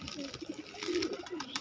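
Kept domestic pigeons, a flock of around a hundred birds, coo in low repeated throaty calls, fairly faint and near, with light background rustle.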